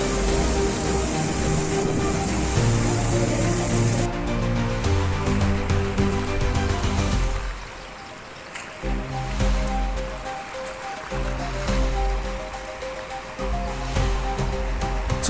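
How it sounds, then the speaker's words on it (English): Storm surge from a super typhoon sweeps into a coastal town on Samar in the Philippines, a loud, continuous rush and crash of churning water that dips briefly midway, then surges again, with no voices. "the force of the storm surge and that's the onslaught of water caused by the low pressure and the extremely high winds"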